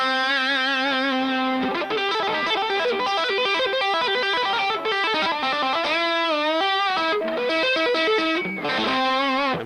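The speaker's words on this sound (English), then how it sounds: "we get all that extra distortion that you might want if you're a shredder" Heavily distorted electric guitar, a Tokai Silverstar Strat copy through a Ceriatone Creme Brulee with overdrive pedal, playing a melodic line, thick and saturated with a buzzing overdriven tone, loud and continuous.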